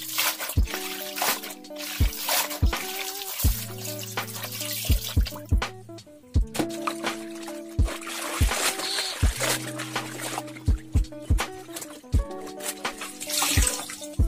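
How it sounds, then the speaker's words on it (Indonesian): A T-shirt being hand washed in a basin of water, with sloshing and dripping splashes running through the clip under steady, tuneful background music. "Setelah menunggu kurang lebih 30 menit, langsung aja bajunya kita cuci."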